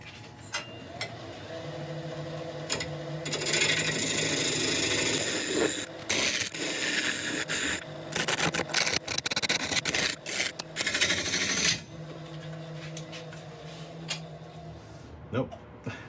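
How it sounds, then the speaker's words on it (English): A carbide tool cuts into a block of ebony, the heaviest wood, spinning on a lathe, giving a steady rasping, scraping grind with bursts of harsher chatter, heard close up with someone talking intermittently. "I'm just going to really get a carbide on here and see how that does."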